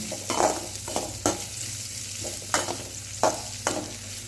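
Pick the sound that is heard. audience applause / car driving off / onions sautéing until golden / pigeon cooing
onions sautéing until golden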